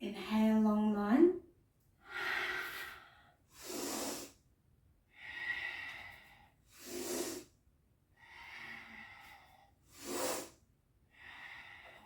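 Slow, deep yoga breaths with long, airy inhales and exhales alternating in steady rhythm, close and clear, with a spoken voice at the start.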